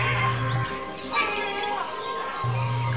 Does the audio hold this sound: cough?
no